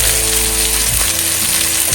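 Sliced onion and green chilies fry in hot oil in a pan for bitter gourd curry, a loud, dense, unbroken sizzle heard close up with no talking.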